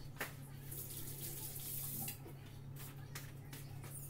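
Tap water running steadily into a sink for washing in a home kitchen while cooking dinner, a continuous close splashing hiss with a low hum underneath and no talking.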